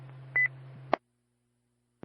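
Short burst of telephone dialing tones carried over a SKYWARN amateur radio repeater, a steady carrier hum with a brief two-tone beep and a squelch click before the channel drops to silence, then another click at the end.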